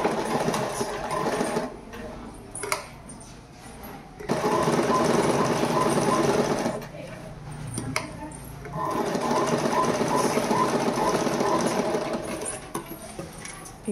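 A sewing machine stitches a uniform knicker, its fast, steady motor-driven needle whirring loudly in long runs with brief pauses between seams.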